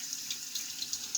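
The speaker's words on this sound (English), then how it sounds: "Rinse off the pieces." Tap water running steadily into a sink while the pieces of a 1944 Travelong vintage travel razor are rinsed, a close, even hiss with small splashy fluctuations.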